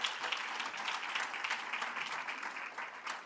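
Audience applause at a school district sports awards ceremony, a steady wash of many hands clapping for a student athlete, fairly distant and even for a few seconds with no talk over it.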